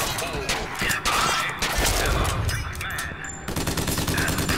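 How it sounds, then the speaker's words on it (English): Sniper rifle gunfire in the shooter game Bioshock Infinite, a run of loud sharp cracks spaced about a second apart amid other combat noise, with faint talk in the mix. "This is why the sniper rifle is really good."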